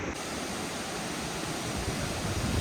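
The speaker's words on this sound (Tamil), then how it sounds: "அருவியை பாருங்கள் பார்க்குறதுக்கே ரம்மியமாக இருக்குங்க" Courtallam (Kutralam) waterfall rushes in a loud, dense, unbroken roar of falling water heard close by, steady throughout with no voices.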